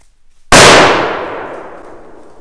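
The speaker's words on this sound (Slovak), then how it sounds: "Takže petardu máme opravenú a ak sa teraz nechytí, tak jebeme na ňu, ale hádam sa chytí." A firecracker set off to blast a dry tree: one sudden, loud, sharp bang after a moment of quiet, followed by a long ringing decay that slowly fades away. No voices are heard.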